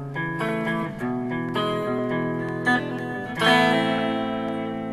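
A guitar plays the mini verse of a song, ringing arpeggiated chords with hammer-ons flowing into a brighter strummed chord near the end, clear and close with no talk.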